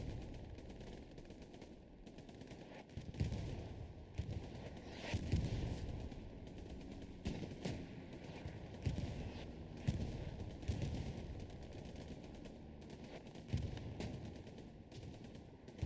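Artillery fire in the World War II shooter Hell Let Loose during an esports match, with irregular booms and bursts of gunfire of varying loudness, some near and some distant, layered over a constant background rumble.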